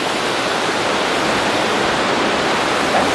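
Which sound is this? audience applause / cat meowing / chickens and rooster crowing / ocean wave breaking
ocean wave breaking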